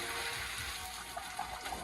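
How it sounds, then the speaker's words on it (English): Pasta cooking water pours into a colander in a steady, close rushing gush that lasts under two seconds, with no talking over it. "I'm going to drain this. Do you need help? No. I have my colander already in here."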